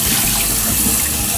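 Tap water runs hard and steadily from a faucet to wet a doll outfit, a loud continuous close-up splashing rush with no pauses and no talking.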